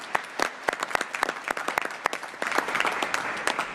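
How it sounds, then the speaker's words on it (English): An audience applauds for Pastor Phil and the Pacific Garden Mission at a congressional subcommittee field hearing, steady close clapping from many hands with sharp individual claps standing out, no voices over it. "Let's give them a round of applause."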